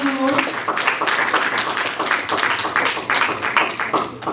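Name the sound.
congregation applauding in church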